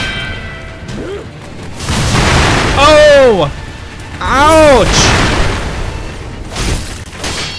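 Firecrackers going off in the action game Sekiro: two heavy, booming blasts a second or so apart, loud and close, with a player's yelps around them.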